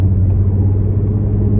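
A 3.2 VR6 car engine runs at 2,000 RPM in sixth gear after a coil pack replacement, giving a steady, loud, close low rumble with no misfire stumbles.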